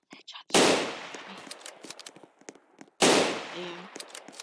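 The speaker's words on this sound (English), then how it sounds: "I already have the big gun, which you can actually aim with." A big gun in the Roblox video game fires two loud blasts a few seconds apart, each decaying quickly, with faint clicks and soft noises in between.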